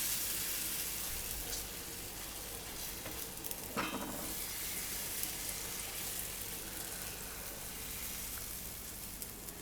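Tomato besan pudla batter spread on a hot pan, a steady close sizzle of cooking with a brief scrape of a spoon partway through, no talking.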